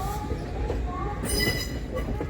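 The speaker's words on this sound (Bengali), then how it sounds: "এখান থেকে আমাদের ট্রেন পুরো দিকে ঘুরে যাবে খড়গপুর পুরী লাইনে" A train running and rolling onto the Kharagpur–Puri line, a close, steady rumble of wheels on track with brief metallic squeals and a rushing hiss partway through, with no talking.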